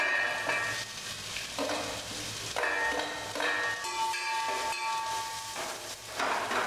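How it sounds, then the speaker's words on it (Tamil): Beans, peas and onion sautéing in a pan for vegetable masala noodles: moderate sizzling broken by repeated spatula scrapes and metallic clinks against the pan, close and without speech. "பீன்ஸும் பட்டாணியும் நல்லா வதங்கி வச்சுட்டு வெங்காயத்தை போட்டுக்கலாம்."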